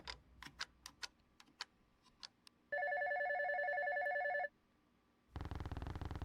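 A telephone bell rings in one long trill after a run of clock-like ticks. A burst of static follows, all of it fairly faint and with no voices.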